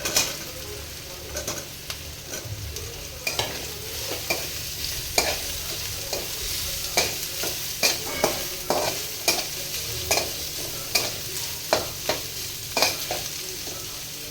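Onion frying in a pan for Hakka noodles, a steady broadband sizzle with repeated sharp scraping strokes of a spatula stirring at a regular pace, close and fairly loud, no voices.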